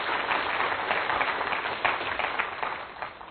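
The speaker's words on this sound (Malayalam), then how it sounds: "അത് കൈയടിച്ച് കർത്താവിനെ മഹത്വപ്പെടുത്താം." A church congregation claps their hands in praise, a dense and continuous round of applause that fades slightly toward the end.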